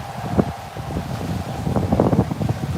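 Steady wind rushes and buffets the microphone outdoors in the Everglades at Big Cypress, with rustling gusts rising toward the end and no voices.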